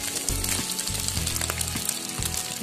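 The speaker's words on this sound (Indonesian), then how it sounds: "kita masukkan pentol dan juga sosisnya tadi" Meatballs and sausages fry in a pan, a continuous dense sizzle with bubbling crackle and brief stirring clatter, close and steady.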